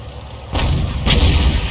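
A 105 leFH18B2 artillery gun fires at a Chaffee tank in a video game, two heavy booming shots close together, loud and close with rumbling tails.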